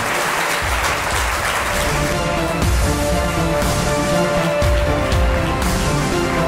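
Audience at an Appointment with Destiny UK 2017 interactive session applauding themselves, a steady dense round of clapping that holds at even loudness throughout, with music or tones sustained underneath.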